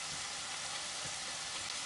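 A soft, continuous crackling sizzle of food frying in a pan, steady and fairly quiet throughout.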